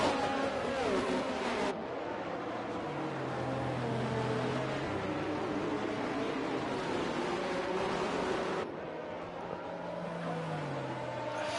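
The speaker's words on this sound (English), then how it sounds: "we get to watch the safety car go around for a couple of laps" Safety car circling laps in a racing video game at the Azerbaijan Grand Prix, a steady broadband engine drone with low pitch sweeps as it passes, continuous and fairly loud with no talking.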